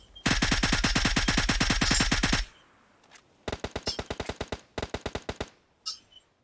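Automatic gunfire in the mobile battle-royale game PUBG Mobile: a long, loud sustained burst of rapid shots, a short pause, then two shorter quick volleys and a final lone shot.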